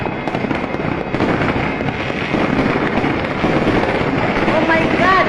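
Fireworks go off in a dense, continuous crackling barrage of explosions at a market, loud and unbroken, with faint whistling rockets rising near the end.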